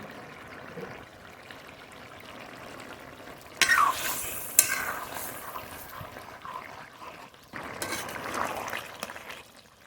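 Ground spice paste with dried red chilies and cumin seeds tossed into hot oil for a curry, starting as a soft low sizzle, then bursting into louder crackling frying and stirring in two surges.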